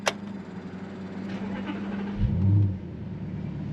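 A 2013 Audi R8 with a 4.2 V8 and non-stock exhaust fires up: a sharp starter burst, a steady idle, then a loud rising rumble as the engine catches and blips before settling back.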